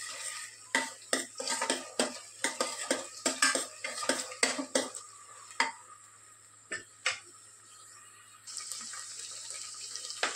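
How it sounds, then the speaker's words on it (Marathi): Ginger garlic paste sautéed in a pan, heard as a quick series of spoon clinks and scrapes against the metal, then sparser knocks and a soft steady sizzle near the end. "यातच परत 1 मोठा चमचाभर आलं लसूण पेस्ट घालते मी. व्यवस्थित परतून घ्यायची"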